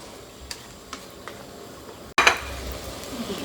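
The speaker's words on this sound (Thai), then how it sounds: "พอเดือดดีแบบนี้นะคะ น้ำเขาก็จะงวดลงนะคะ" A pot of pork curry with pickled bamboo shoots bubbling, with soft ticks and pops of the simmer, then a sudden louder burst of bubbling and sizzle partway through, no talk.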